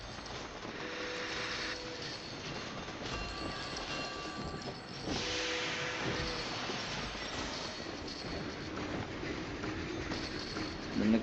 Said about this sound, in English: We have two more locomotives that are coming around here.